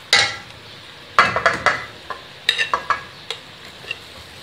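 Rice stirred in a pan with jaggery syrup for gur wale chawal, a spoon scraping in quick bursts: a loud stroke at the start, then clustered scrapes and clinks with short pauses between, close and alone.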